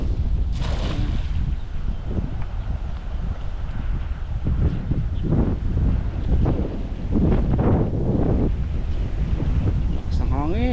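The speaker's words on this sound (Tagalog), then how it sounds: "Lakas ng hangin." Strong cold wind blasts across the microphone outdoors near water, a heavy low roar that pulses in gusts, with people's voices partly buried beneath it.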